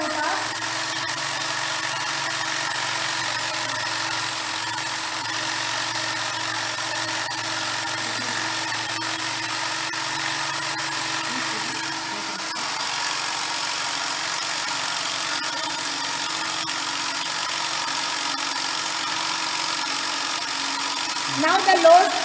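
A DC shunt motor under load during a brake test makes a steady, continuous electrical whine and hum with a slight change in tone midway and a brief louder burst at the very end.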